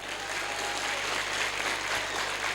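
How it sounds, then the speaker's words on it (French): Steady applause from an audience at a school twinning ceremony in Senegal, dense even clapping held at a constant level for the whole stretch with no voices on top. "Merci Ndar, vous l'applaudissez fort."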